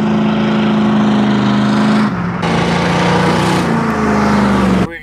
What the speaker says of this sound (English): this is the fastest we ever see one of these cars drive through these pits